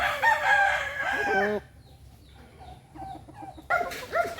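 A rooster crows loudly and close by, its call breaking off, followed by quieter chirps and clucks before another burst of crowing at the end.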